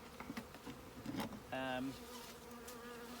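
A swarm of honeybees being put into a nucleus hive, a dense close buzzing hum with individual bees droning past, and a brief louder tonal buzz midway.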